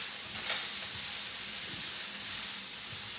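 Seasoning goes into a sizzling pan of kimchi fried rice, giving a steady close hiss with a small clink near the start, even and unbroken throughout.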